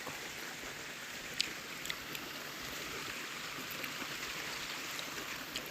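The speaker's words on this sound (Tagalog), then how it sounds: "Naririnig niyo yung ilog?" A river flowing in the Scottish Highlands, heard as a faint, steady broadband rush of water throughout, with a few small splashes or ticks and no talking.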